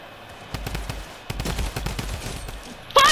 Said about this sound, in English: this is the drum gun spam